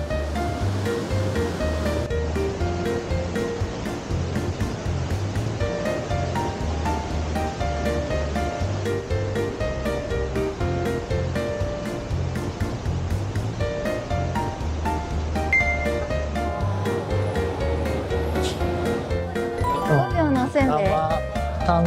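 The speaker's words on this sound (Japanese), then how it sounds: "水の流れがすごいわ今日" River water rushes loudly and continuously under a drum bridge at Arima Onsen, a dense roar like a swollen river or small falls close by, with people talking faintly underneath.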